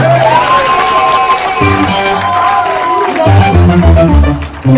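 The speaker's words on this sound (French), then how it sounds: "Applaudis pour toi-même." A church congregation clapping and cheering during an evangelical Sunday service, loud and close, with shouts, whoops and sustained musical tones running under the noise.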